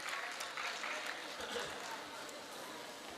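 Audience applause for Nain Sukh at a Punjabi literary festival, a continuous wash of clapping from a crowd, heard at a distance and fairly faint.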